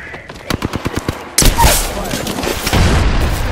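Gunfire in the video game Apex Legends: a rapid string of close, evenly spaced shots, followed by a loud dense burst of blasts and rumble.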